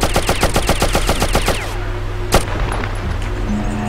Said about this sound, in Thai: ยิงเข้าไปยิงจนกว่าจะหมด